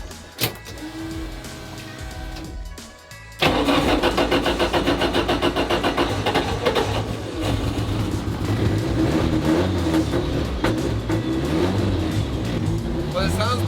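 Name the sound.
car engine starting and revving with exhaust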